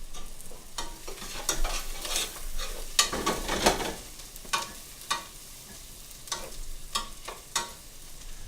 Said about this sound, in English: While we're sauteing that off in there too, we'll also add the bay leaf.